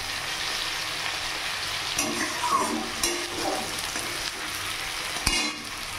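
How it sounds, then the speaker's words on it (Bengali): Tomato and onion fry in a pan, giving a constant loud sizzle with several scraping stirs and a sharp utensil knock near the end. "টমেটোটা একটু ভাজা ভাজা হয়ে নিই।"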